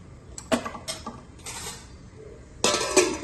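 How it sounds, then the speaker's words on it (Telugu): A metal lid goes onto a pot of lentils with ridge gourd, with several close clanks and scrapes of cookware and a louder clatter at the end. "మూత పెట్టేసుకోవాలి."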